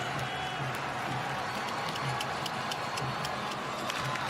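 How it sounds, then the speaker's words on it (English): Warm applause and crowd noise fill a World Cup football stadium as South Korea play Portugal, a steady distant roar with scattered clapping from behind the goal, continuous and even. "Warm applause from behind the goal."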